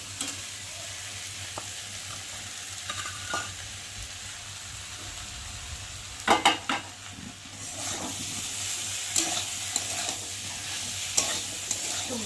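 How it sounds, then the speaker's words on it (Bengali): Prawns are tipped into a hot pan with onion, ginger and cumin and sizzle steadily, with a burst of loud scraping and clattering midway, then further stirring over the continuous frying hiss. "আর দেবো চিংড়ি মাছগুলো ঢেলে"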